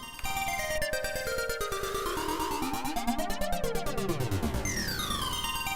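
A buzzy OB-Xa V synthesizer tone built from two square-wave oscillators, sweeping and warbling through shifting pitches with a harsh, hollow timbre, loud and continuous.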